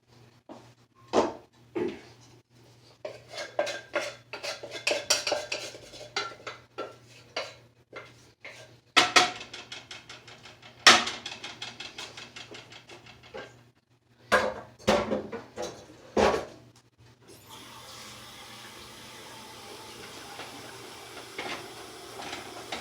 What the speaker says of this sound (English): take these potatoes and flash them, transfer them into the pan